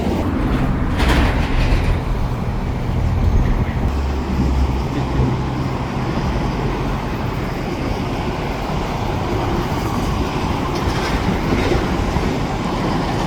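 A shop train rolls through the SRY Trapp rail yard in New Westminster, British Columbia, a steady heavy rumble with clanking and rail noise filling the whole stretch, fairly close, with no talking.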